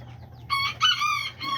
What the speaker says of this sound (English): These are all his egg layers.